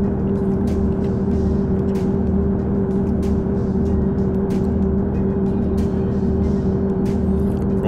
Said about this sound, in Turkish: Rotarlar sesi sürekli sık sık bize eşlik ediyor